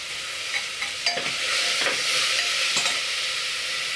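Cauliflower, capsicum and carrot stir-fry for soybean pulao, a steady bright sizzle with intermittent spatula scrapes and stirring clatter close by.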